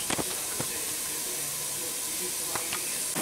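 Onions fry in a pan with a constant bright hiss and sizzle, punctuated by a few sharp clicks and pops near the start and end.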